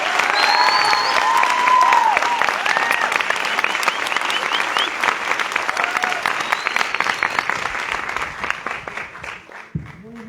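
A conference audience at a Spanish-language keynote lecture applauds warmly, with dense, continuous clapping that thins into scattered claps toward the end.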